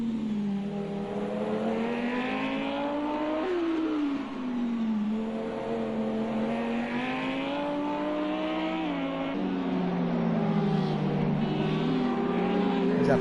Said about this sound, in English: Fenorio slowing down there and letting the Rosta machine pass by